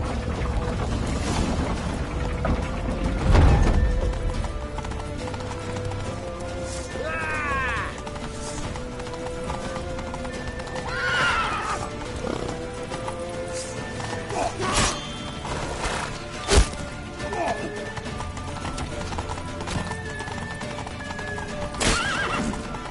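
Horse hooves clatter and gallop with several loud whinnies and neighs, mixed with game sound effects and occasional impacts, from The Witcher 3: Wild Hunt.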